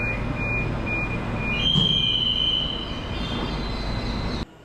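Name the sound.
metro train arriving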